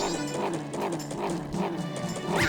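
Dog in The Legend of Zelda: Majora's Mask in Clock Town barking repeatedly in a quick, regular series of sharp yaps, close and fairly loud, with a brief rising noise at the end.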